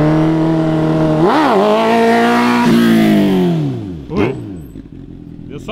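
A car engine revs up in several rising surges, the pitch climbing and falling, loud and close, then drops off sharply before another brief rev, with a short spoken remark over it.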